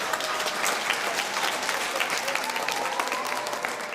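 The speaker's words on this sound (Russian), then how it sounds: "бурными овациями известного гроссмейстера встречают и в актовом зале." A school assembly hall crowd gives a chess grandmaster a sustained, loud ovation, continuous applause filling the room without pause.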